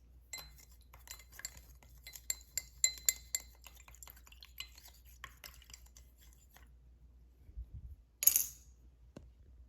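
Butanol and acetone are mixed in a glass test tube, giving light glassy clinks and rattles in an irregular patter, close by, ending in a sharper clink.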